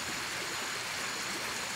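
Steady rushing stream of water flowing close to a nearby spring in Pernambuco, a continuous broadband wash with no pauses and no talking.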